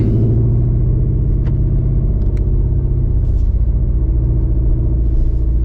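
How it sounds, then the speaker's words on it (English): A loud, steady engine rumble from inside an S650 Mustang GT dominates in rush hour traffic, a continuous low drone of road noise with faint traffic sounds around it. "We're about to get hit by this rush hour traffic"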